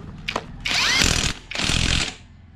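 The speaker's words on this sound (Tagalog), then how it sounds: "Tinutornilyo na natin. Gamit natin ang impact drive." A cordless impact driver runs screws into an ATV frame being built, firing in two long rattling bursts with a short click before them, close and loud.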